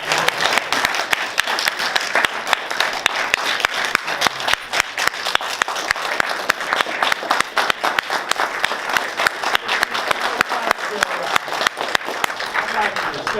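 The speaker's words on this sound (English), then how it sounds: "Would you please give them another big round of applause?" A large audience at a 1963 civil rights gathering at FSU gives a loud, sustained round of applause, with sharp individual claps crackling through the dense roar and voices audible underneath.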